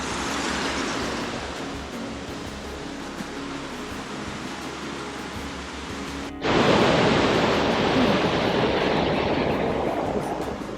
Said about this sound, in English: Water gushing down from everywhere.